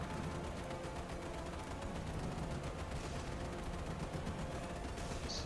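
Naval guns firing in the game Battlestations Midway: a dense, steady barrage of rapid booms and cracks that never lets up, loud and continuous with no pauses and no voices.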